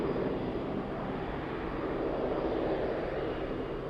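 A cargo aircraft takes off at Birmingham Airport, a steady, broad engine roar that holds level and fairly loud throughout with no talk.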